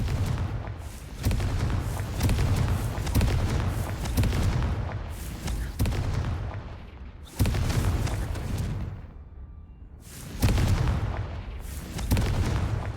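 Repeated blasting-spell explosions from a Harry Potter video game, a series of loud, booming bursts with short decays, about seven or eight in quick succession, close and dominant with no talking.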